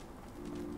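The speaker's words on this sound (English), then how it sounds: "Hey, birds!" Pigeons or doves coo softly in the ruined town of Concord in Fallout 4, a low steady murmur that swells slightly in the second half, faint and with no talking.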